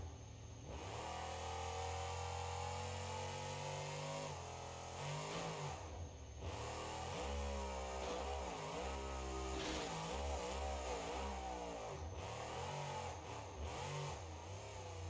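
A turbocharged car engine in BeamNG.drive revs up and down repeatedly, its harmonics sweeping as it climbs and falls, loud and close with no talking.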